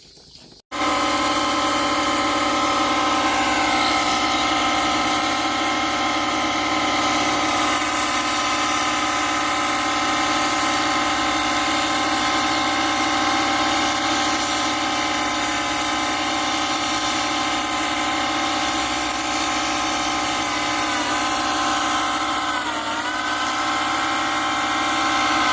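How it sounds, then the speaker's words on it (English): A grinder runs steadily while polishing a piece of Florida agatized coral, a continuous loud whine with a bright high edge that starts abruptly after a brief thump and holds nearly unchanged, with slight pitch dips near the end as the stone is pressed. "that's the grinder there we're going to be using"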